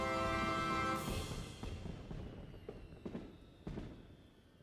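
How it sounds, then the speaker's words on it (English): Fireworks show in a Super Mario game, a sustained fizzing burst that fades out, followed by several scattered pops and crackles at moderate distance with no talk. "Just in time for the fireworks show."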